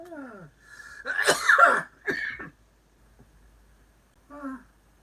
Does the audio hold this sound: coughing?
yes